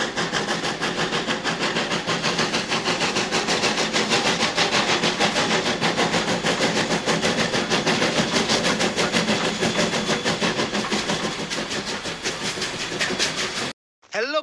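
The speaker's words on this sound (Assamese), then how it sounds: "ৰেলগাড়ীখন যাব ওলাইছে" A train pulls away on a journey toward Mumbai with a loud, steady rumble and rhythmic clickety-clack that carries on for over ten seconds before a sudden break.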